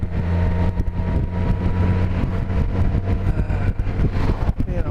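A 2012 Honda Goldwing motorcycle ridden on the road, a steady low engine hum under wind buffeting and road noise, continuous and fairly close.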